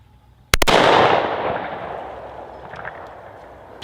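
A single 10mm pistol shot with an Underwood XTP round cracks sharply and loudly up close, followed by a long rolling echo that fades over several seconds outdoors.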